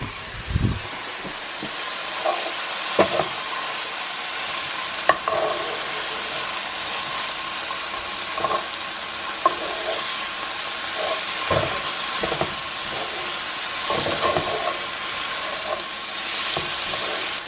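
Zucchini noodles sizzle steadily in a hot pan while being stirred, with repeated scraping and clattering knocks from the utensil over a constant frying hiss.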